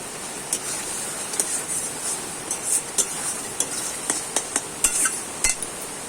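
Spices with turmeric and salt fry in a pan while a spatula scrapes and knocks against the metal in irregular sharp clacks over a steady sizzle, close-up with no voices.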